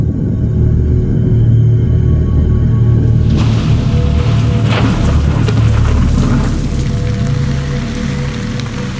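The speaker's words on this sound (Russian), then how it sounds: "Из ядовитых облаков пошел ядовитый дождь." Rain falls near a sulfur volcano in Indonesia, a dense continuous hiss and patter of drops that swells louder partway through, with a low rumbling background.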